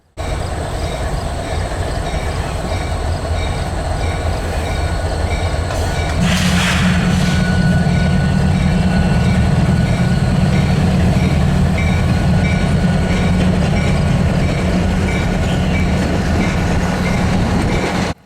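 A Union Pacific Centennial 6936 diesel locomotive rumbles past nearby on the former Rock Island mainline with a steady low roar and a sustained engine drone, a brief hiss of steam around the middle, no voices.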